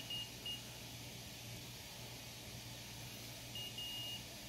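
A multimeter set to continuity beeps while testing a power cord: short, faint high beeps at the start and again near the end over a quiet, humming background.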